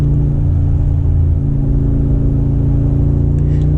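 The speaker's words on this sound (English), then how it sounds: "here you have a twin turbo V8 that sounds like a monster" A Mercedes G63 AMG SUV's twin-turbo V8 rumbles at a steady deep drone, heavy and loud, with little change in pitch. It is heard alone, without voices.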